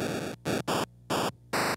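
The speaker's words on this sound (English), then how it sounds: "I'm gonna plug my replay into my Arduino Boy to make Game Boy sounds" Harsh, buzzy square-wave Game Boy tones played through an Arduinoboy, in five short bursts separated by silences, bright and loud with a raspy digital edge.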